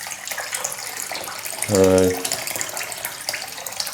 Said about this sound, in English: I've already got a little bit of water in, and I'm just going to top it up.